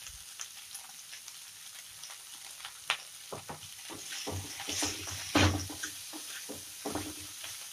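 Finely chopped cauliflower with salt fries in a pan, producing a quiet sizzle with scattered spoon clinks and stirring scrapes, a louder rustling burst midway.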